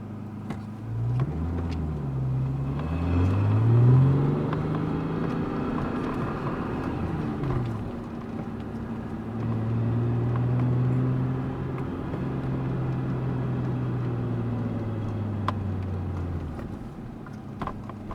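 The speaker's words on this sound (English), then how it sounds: "Nice steady idle." A 1990 Nissan 300ZX engine with an aluminum radiator runs close by in a low, even hum whose pitch drifts up and down a few times over a long stretch.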